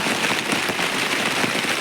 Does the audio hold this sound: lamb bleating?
no